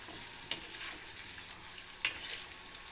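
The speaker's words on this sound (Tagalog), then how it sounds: "At yan na nga inilagay ko ang sibuyas at bawang. Sabay inyo namang hahaluin." Onion and garlic fry in a pan with a soft, steady sizzle, and a spoon scrapes and knocks the pan twice, once early and once about two thirds of the way through. No voices.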